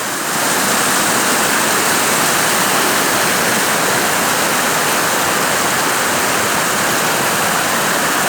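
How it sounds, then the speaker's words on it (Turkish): A powerful waterfall roars steadily and loudly throughout, a dense, unbroken rush of falling water with no voices. "Evet görüyorsunuz şelale ta tepeden akıyor."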